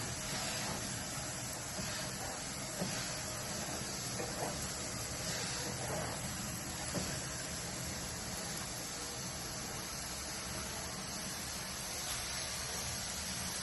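Steady broadband hiss of water spraying from a Hoselink gutter cleaner wand while cleaning house gutters, continuous and fairly even throughout with no talk.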